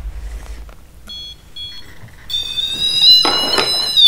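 A ghost-hunting pod device being switched on in a room of a supposedly haunted manor gives a loud, sharp electronic beep tone that rises and holds, after a few faint clicks and handling noises.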